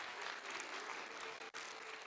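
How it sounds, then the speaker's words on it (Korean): Church audience applauding at a Korean teachers' revival meeting for children's ministry, a dense steady patter of clapping filling the short stretch with a brief dip near the end. "우리 모두 박수 한번 해주시면 좋겠습니다."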